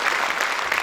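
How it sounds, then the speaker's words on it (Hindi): Audience applause greeting a website launch at a Hindi-language gathering, a brief dense burst of clapping that stays steady throughout. "जोरदार तालियों से इस क्षण का स्वागत कीजिए।"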